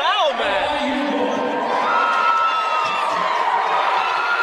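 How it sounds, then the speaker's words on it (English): A loud crowd at a men's college basketball game between LIU Sharks and UMass Lowell roars and cheers continuously, with whoops and shouting voices rising over the arena noise. "This crowd is so loud, we can't even understand what's going on."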